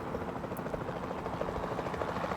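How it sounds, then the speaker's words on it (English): A capture team helicopter in Jurassic World Evolution 2 flies with a steady, close rotor drone and a fast, even pulsing under a broad engine wash, with no voices. "Then the sensible thing is to take a capture team helicopter."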